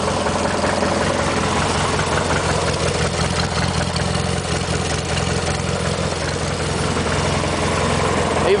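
An old MTD lawn tractor engine idles steadily close by, a constant low, throbbing rumble with a mechanical vibration and no break in its rhythm, with no voices over it.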